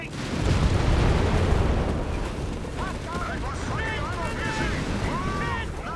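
Grenades explode at a Pak 40 anti-tank gun in the Company of Heroes 3 video game: loud, dense blasts and rumble dominate the opening seconds, then settle into continuous battle noise with shouting voices on top.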